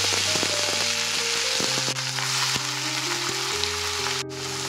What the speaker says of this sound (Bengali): আচ্ছা, এখানে রসুন ভাজা হয়ে গেছে প্রায়। এবারে এর মধ্যে পালং শাকটা আমি দিয়ে দেবো।